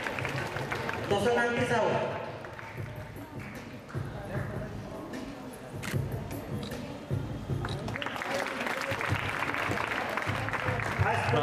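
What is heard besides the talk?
audience applause at school annual day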